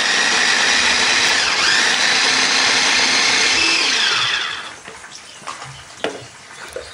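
An electric blender grinds red chilies, shallots and garlic coarsely, a loud steady whirring roar for about four seconds that cuts off and leaves faint kitchen clatter.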